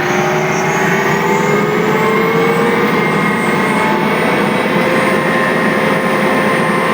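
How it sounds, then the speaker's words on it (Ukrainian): A loud, steady engine drone runs continuously with a constant low rumble and faint whining tones, like a tractor idling close by. "Зараз трактор працює на холостих оборотах"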